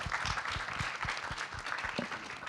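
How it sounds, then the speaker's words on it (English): Applause from an audience at a conference side event, a steady wash of many hands clapping at close range for a couple of seconds, with no talk over it. "I think he deserves a big round of applause."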